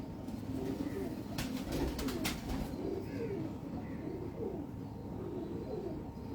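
Soft, repeated cooing of pigeons in a loft, low and throaty, continuing steadily over a dense background of bird murmurs.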